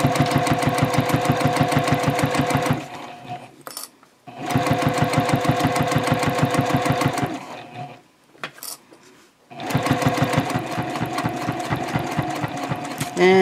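Sewing machine stitching the seam of a fabric project bag, three loud runs of rapid rhythmic needle clatter separated by short pauses with small clicks as the fabric is pivoted, close up.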